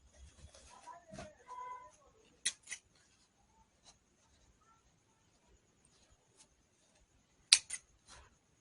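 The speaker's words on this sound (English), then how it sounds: "Sorry, I need to cut the threads." Scissors snip through sewing threads on a blouse, a few sharp close clicks spaced apart amid quiet handling noise and a brief soft voice.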